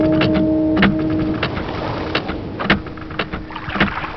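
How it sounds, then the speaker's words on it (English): Bubbles gurgling in a toilet, recorded as a sound effect for the video game Myst, rise in quick uneven bursts and pops over a steady watery wash, close and fairly loud throughout. "What you hear are actually bubbles in a toilet."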